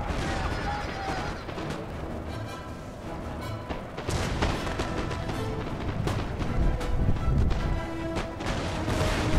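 Battlefield artillery in Napoleon: Total War thunders on and on, overlapping booms and crashes that blend into a dense, continuous roar with sharper bangs standing out now and then.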